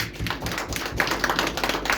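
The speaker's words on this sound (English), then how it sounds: "Let's clap hands for ourselves." A small group claps hands in a quick, uneven patter of slaps. It is moderately close and continues steadily for a couple of seconds, with no one speaking over it.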